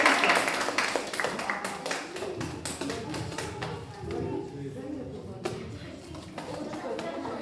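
Children clapping in a classroom, a scattered round of applause with overlapping hand claps and taps, mixed with chatter and moving bodies nearby.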